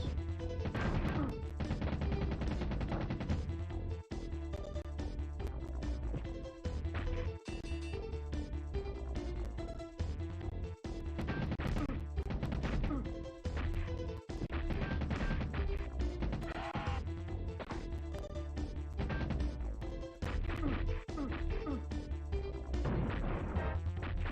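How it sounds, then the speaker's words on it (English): Loud, continuous burst of crashes, booms and smashing impacts from homing missiles exploding in the SNES game Doom Troopers, with dense overlapping blasts and game music running throughout. "Oh wow, homing missiles."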